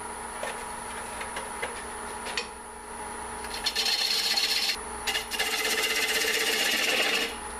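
A Carter and Sons bowl gouge takes small cuts on the bottom of a wooden bowl spinning on a lathe at about 600 RPM, giving a steady scraping rasp that swells into louder, sustained bursts.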